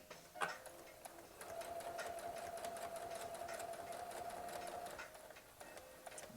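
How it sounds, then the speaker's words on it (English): A sewing machine stitches fabric for a face mask: a fast, even mechanical whirr with rhythmic ticking that runs steadily for several seconds, then stops and briefly restarts, close and fairly quiet, with no one talking. "so let's start sewing"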